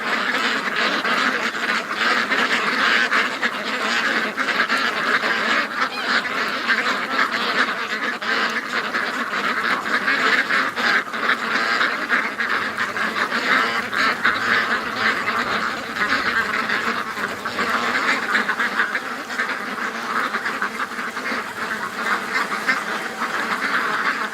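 A large flock of ducks and geese over a swamp fills the air with dense, continuous quacking and honking, loud and unbroken for the whole stretch, with no voices.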